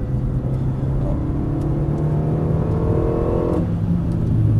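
A car accelerating steadily on the Dreux racing circuit, its engine note rising in pitch over several seconds, loud and close, as from inside or near the car, with no talk.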